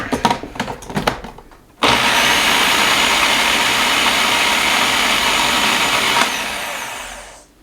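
A blender roars continuously at full power, mincing hot sauce ingredients for several seconds after a few brief knocks and scrapes, then winds down and stops.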